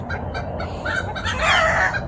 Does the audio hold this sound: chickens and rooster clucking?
yes